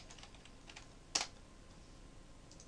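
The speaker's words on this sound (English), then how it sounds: "I'm just typing stuff in, seeing what comes up." Computer keyboard typing, faint, scattered keystrokes with one louder clack near the middle, quiet and close in a still room.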